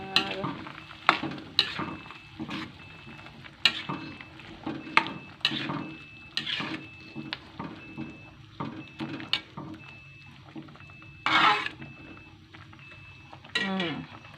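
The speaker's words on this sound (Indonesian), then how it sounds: "Lalu kita aduk-aduk sebentar." A vegetable capcay stir-fry being stirred in a pan: repeated scraping strokes of a utensil against the metal at an irregular rhythm over a soft sizzle, close and moderately loud, with a faint steady tone in the background.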